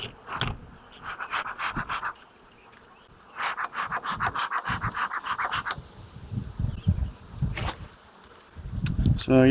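A swarm of bees inside a box gives off buzzing bursts that rise and fall in waves, close and fairly loud, with a few short noises and breaths mixed in.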